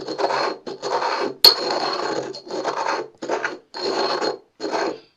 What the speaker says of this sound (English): a mortar so that I can grind that together. And so that's going to be ground to make a nice fine powder